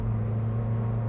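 A McLaren 620R's engine on a race track, a dense steady drone with a strong low hum, loud and continuous, no talk.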